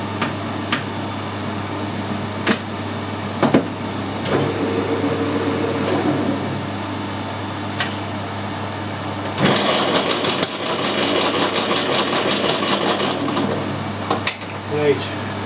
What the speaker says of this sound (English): Now it's going to be noisy because I've actually got the gearbox set up to cut the 14 TPI thread